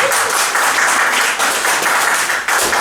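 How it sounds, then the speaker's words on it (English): A comedy-night crowd gives a loud, dense burst of clapping that holds steady for a few seconds, up close and uninterrupted by talk. "Give him applause."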